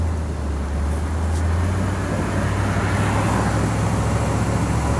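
A 1969 Corvette Coupe in Monaco Orange cruises along Marina Mile, its steady low engine drone and road noise continuous and close throughout with no pauses.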